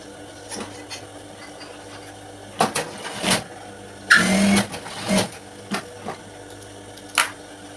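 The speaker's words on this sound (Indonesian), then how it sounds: "Bagian kanan dan kiri kita jahit." A sewing machine runs in short, separate bursts, the longest near the middle, as it stitches the side seams of a high-school skirt, close and fairly quiet between runs.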